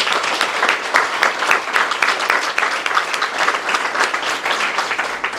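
A room full of people applauds at a State of the City address, a steady dense clapping that holds at an even level throughout, loud and close.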